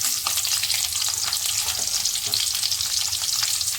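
Garlic and onion fry in a pan with a steady, close, crackling sizzle that stays even and unbroken from start to finish.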